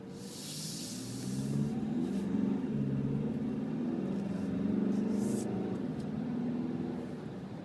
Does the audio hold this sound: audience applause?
no